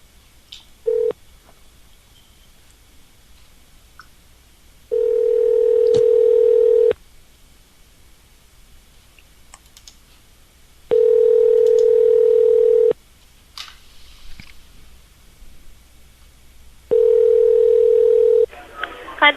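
Skype call to a Burger King: a steady ringback tone sounds in three long bursts of about two seconds each, separated by silent gaps, preceded by a short blip, with faint background hiss between rings.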